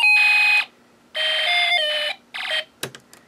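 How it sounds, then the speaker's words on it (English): A Snap Circuits alarm IC plays a laser gun effect through a small speaker: bursts of harsh, warbling electronic tone separated by short silences, ending with a sharp click, close and alone. "the alarm IC's the laser gun effect is being played"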